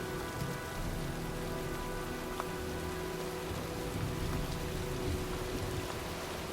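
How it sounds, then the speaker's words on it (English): Heavy rainstorm in the video game Heavy Rain, a dense, steady hiss of rain striking surfaces with a low background hum, continuous and fairly loud throughout. "looks like a storm's coming"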